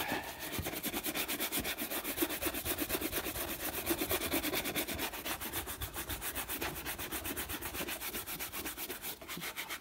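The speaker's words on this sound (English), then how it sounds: "Everywhere where you put wax, give it a buff." A waxed shoe is buffed with a horsehair brush: fast, rhythmic back-and-forth swishing strokes, close and steady for about ten seconds, with no talking.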